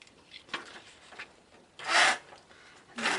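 Soft, scratchy rubbing strokes come from a transfer letter being burnished onto a card, several short faint passes and two louder scrapes, quiet and close.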